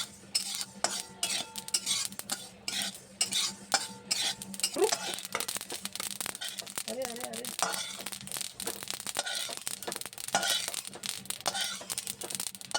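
Ragi flour is stirred and roasted in a pan, making irregular scraping and clinking strokes of a spoon against the metal, with a soft sizzle beneath and a voice speaking over parts of it.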